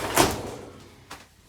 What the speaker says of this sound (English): Again, another solid door, closes off the bathroom.